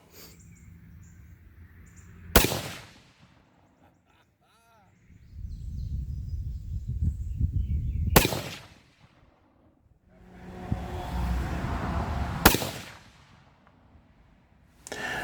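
Three sharp, loud 7mm-08 rifle shots at an outdoor range, each a sudden crack with a brief decay, spaced several seconds apart, with faint wind and rustling between shots.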